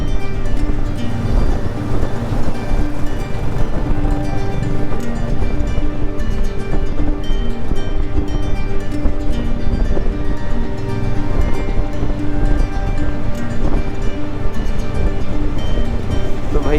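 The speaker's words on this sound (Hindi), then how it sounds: "यार पूरी भर के जा रही है नदी एकदम।" Rushing river in full flow after a landslide near Kullu in the Himalayan mountains, a steady loud roar of churning water with wind buffeting the microphone throughout, no voices.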